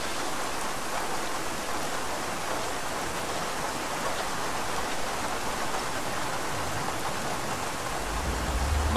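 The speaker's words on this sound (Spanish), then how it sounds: "No llueve nunca y nos va a tocar la lluvia del año" Steady heavy rain falls in the video game ArmA 3, a dense continuous hiss that stays even and loud throughout with no talking.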